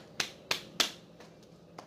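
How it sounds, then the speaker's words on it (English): Hands cupped and twisted into a dolphin-style clap give three sharp, fairly loud claps at an even pace, then two or three fainter ones, with no talking. "This is dolphin clap."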